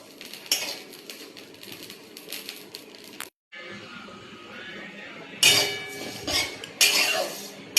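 Cumin and coriander seeds dry-roasting in a dry pan, with a metal utensil scraping and clinking against the pan in short bursts and a brief silent gap partway through.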